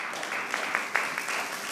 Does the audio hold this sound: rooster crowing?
no